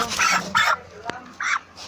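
A few short clucking bursts from broiler chickens close by, separated by brief pauses, with a sharp click in between.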